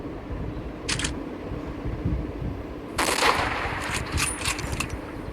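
A sniper rifle shot rings out in a hunting video game, a sharp burst at about one second, then a louder crack followed by a brief clattering tail over a steady low background hum.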